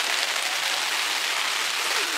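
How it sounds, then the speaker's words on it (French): Rain falling outside, a steady broadband hiss with no talk over it. "si vous entendez, il pleut."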